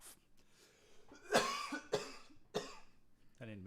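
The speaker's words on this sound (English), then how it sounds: "I'm gonna cough." Several sharp coughs in a row, close but fairly quiet, spaced about half a second apart, followed by the start of a voice.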